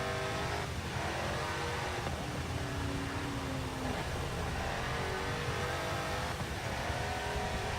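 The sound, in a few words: Toyota race car engine revving in the video game Forza 7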